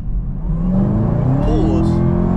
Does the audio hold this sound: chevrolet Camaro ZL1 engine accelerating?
yes